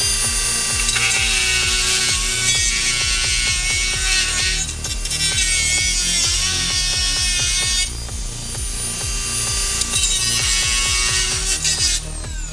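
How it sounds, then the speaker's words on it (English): Dremel rotary tool cutting through an RC car body: a loud, continuous high-pitched grinding whine up close, with a rapid rattling texture and brief dips in pitch as the cut bites, with no talking. "no, I'll have to Dremel the other side"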